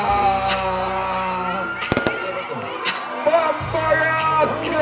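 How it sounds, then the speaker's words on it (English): Fireworks are set off at a lively outdoor birthday party, giving scattered sharp cracks and pops over loud music and crowd noise. "Light up fireworks, my friend."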